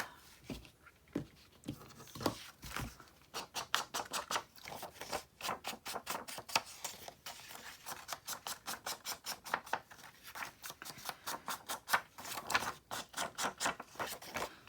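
Old scrapbook paper is distressed along its edges in quick, repeated scratchy scraping strokes, close and fairly loud, running steadily in bursts with no talking.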